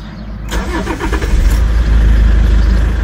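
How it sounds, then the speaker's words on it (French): A Toyota car with 550,000 km starts up: a short crank, then the engine catches and settles into a loud, close, slightly uneven idle that runs rough, with no talking. "Alors déjà on voit qu'au démarrage elle ne tourne pas forcément très rond."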